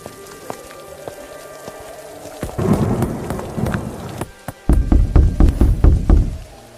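Rain falling on a rural home while a family sets out with their cow, heard as a steady wash of drops with a sharper patter and knocks building up partway through and growing loud near the end.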